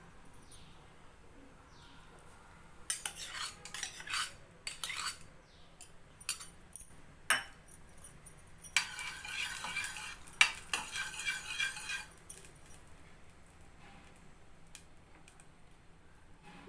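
Wheat flour roasting in ghee in a kadai over a low-to-medium flame for Kada prasad, stirred in irregular scraping bursts of a spoon against the pan, close and moderately loud, with quiet gaps between strokes and no talking.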